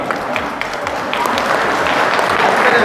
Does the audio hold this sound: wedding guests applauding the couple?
yes